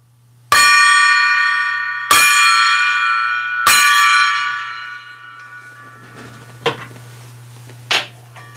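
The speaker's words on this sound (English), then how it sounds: "Let me ring that gong." A solid gold gong is struck three times at even intervals, each loud stroke ringing out with a long shimmering decay, followed by a couple of faint knocks and a low steady hum in the background.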